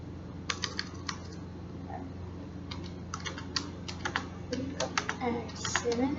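Someone types on a computer keyboard while writing in Google Docs: fast, uneven bursts of light plastic key clicks, growing busier toward the end, with a faint voice and steady low hum underneath.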